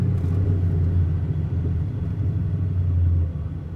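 A car's exhaust, softened after the system fell off and was partly fixed, burbles with a steady low rumble as the engine is let off, loud and close throughout with no talk.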